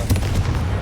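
A Confringo blasting spell fires in Hogwarts Legacy, a short, punchy burst of crackling explosive impacts, loud and close.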